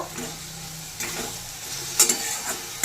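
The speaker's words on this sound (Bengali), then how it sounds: "এবারে দিয়ে দেবো ভেজে রাখা সবজিগুলো নেড়ে একটু কষে নেব" Fried vegetables with cumin and turmeric powder are stirred in a pan for a Bengali veg dal, giving a soft steady sizzle with several scraping strokes of the spatula at roughly one-second intervals.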